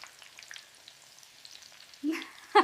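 Vadai fry in hot oil with a faint, crackling sizzle that runs quietly for about two seconds before a louder, brief burst of sound near the end.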